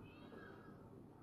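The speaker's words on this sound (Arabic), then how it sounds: "في قطة اهي" A short, faint cat meow from the video game Half-Life: Alyx, with a rising then falling tone, heard against a quiet background.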